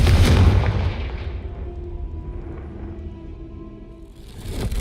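A fire spell bursts with a loud, booming explosion in Hogwarts Legacy, then a rumbling decay fades away before another blast begins to swell.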